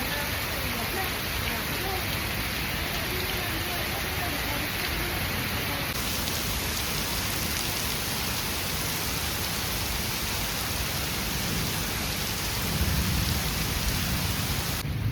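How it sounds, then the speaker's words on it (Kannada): Steady rain falls in a park in Bangalore, a dense and continuous close hiss of drops on surfaces that holds at an even level throughout, swelling slightly toward the end. "ಅಷ್ಟೊತ್ತಿಗೆ ಮಳೆ ಸ್ಟಾರ್ಟ್ ಆಯಿತು"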